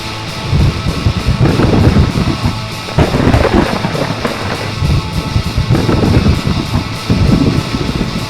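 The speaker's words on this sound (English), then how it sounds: "Our first lightning storm, so we're like trying to be cool, but like, it was scary." Strong wind batters the microphone aboard a sailing boat during a lightning storm, a loud, gusty roar with heavy low rumbling surges that rise and fall over several seconds.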